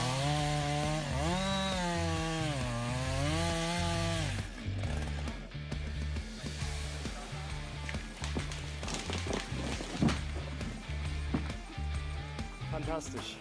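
A powerful chainsaw runs hard at full throttle cutting wood, its engine whine rising and falling in steady pulses, loud and close throughout, with music-like tonal bands underneath.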